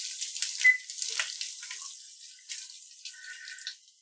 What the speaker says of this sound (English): That is sizzling away beautifully.